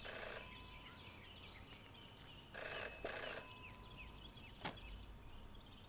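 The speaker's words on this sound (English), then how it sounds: "phone is ringing" A telephone rings in the video game Jenny LeClue, with three separate bursts of bright, trilling bell tones spread over a few seconds against a quiet ambient background.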